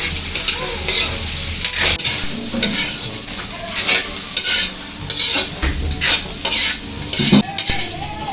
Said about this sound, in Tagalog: Ipiprito ko muna itong mga hotdog.